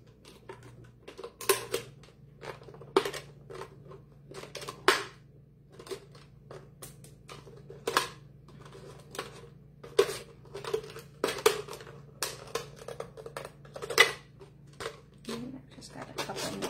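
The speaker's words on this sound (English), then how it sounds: "you don't have to turn your scissors in any weird angles" Scissors snipping through a plastic pop bottle as it is cut into an upcycled birdhouse, a steady run of sharp, close clicks and crunches that sometimes come in quick pairs, with no voice over them.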